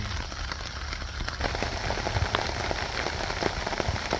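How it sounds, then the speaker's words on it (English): Steady rain pattering on a surface, a dense continuous hiss with occasional louder drips, no voices. "This rain's already coming down."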